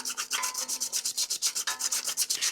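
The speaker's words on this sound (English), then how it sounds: "I'll clean up the magnet just because everyone loves to clean magnets up." Close, steady back-and-forth rubbing scours rust off the magnet of a Toro zero-turn mower's stator, each stroke a rhythmic rasping swish repeating about six times a second with no voices.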